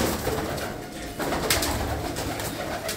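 A pigeon coos close by over a dense background of other birds, the soft calls continuing steadily for a few seconds.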